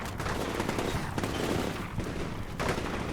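Sustained gunfire from a Combat Mission Shock Force 2 battle, dense overlapping rifle and machine-gun bursts with a few short lulls, loud and continuous, without speech.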